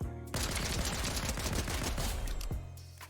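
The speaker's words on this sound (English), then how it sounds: "But then when you look at the tactical pistol, for example," A tactical pistol in Fortnite fires a rapid, dense string of shots, loud and continuous for about two seconds before stopping.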